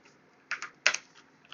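Several quick keystrokes on a computer keyboard, light clicks in two small bursts over near silence.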